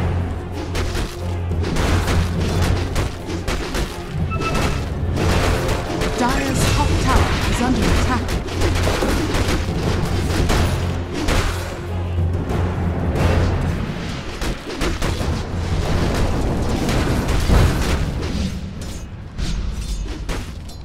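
Dense, continuous battle clamour from Dota 2 as the Dire's top tower is attacked: repeated impacts, booms and mechanical clatter with spell effects, loud and sustained throughout, with speech mixed in.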